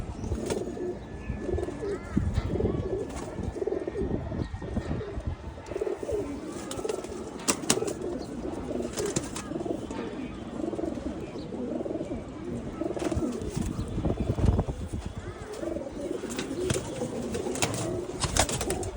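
Female pigeons in a loft coo continuously in soft, rolling low calls, several birds overlapping, with occasional wing flaps and rustling.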